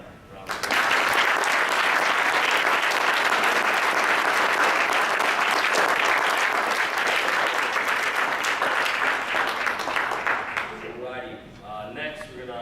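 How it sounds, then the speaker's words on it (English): A gathered crowd at a wrestling team recognition event gives the young wrestlers a dense, sustained round of applause that holds steady for about ten seconds before thinning out, with voices talking as it fades. "So can we give these young men a round of applause?"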